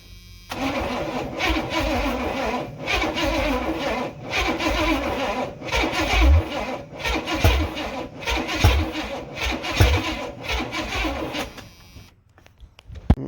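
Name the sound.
86 Silverado carbureted Vortec 350 engine cranking, trying to start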